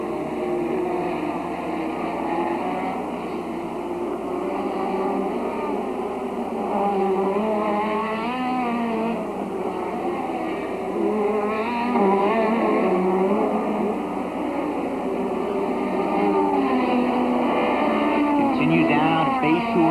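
Formula Super Vee race cars of an SCCA event at St. Petersburg drone steadily at full speed, their engine whine rising and falling continuously over twenty seconds beneath constant commentary.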